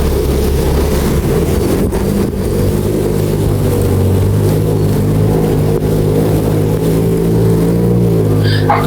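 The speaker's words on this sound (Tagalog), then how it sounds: "Medyo nahihirapang umandar na uli ang aking motor dito" A motorcycle engine labors steadily at low pitch through flood water, droning and straining with a slight rising whine near the end, continuous and close.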